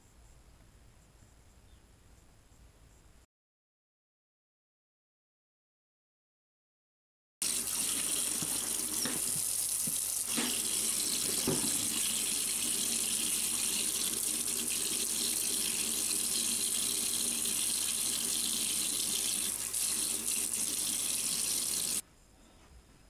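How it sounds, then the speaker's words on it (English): Tap water runs steadily over a sand-cast soft-bait lure being rinsed clean in a sink, a loud continuous gushing stream with a few brief knocks, after a short stretch of quieter room tone and a silent gap. "it is easily washed off with some dishwashing soap. So I'll just go in and wash it off"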